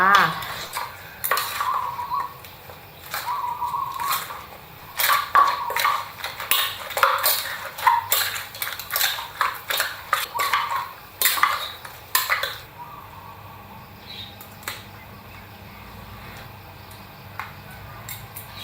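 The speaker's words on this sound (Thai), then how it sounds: "นี่ตำตำตำตำนะคะให้เข้ากันนิดนึงนะคะ" Som tam with pork sausage being pounded in a mortar, with a series of sharp, close knocking and clattering hits in irregular bursts that fade to quieter occasional taps near the end.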